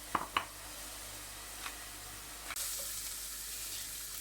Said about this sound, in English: the onions have been fried for about 5 minutes